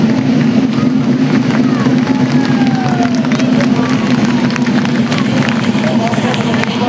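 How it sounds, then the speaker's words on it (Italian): A large outdoor crowd at a Sardinian pariglias horse-riding display cheers and applauds in a continuous loud roar, with an announcer's amplified voice over it. "bravissimi ragazzi, bravi, un applauso signori."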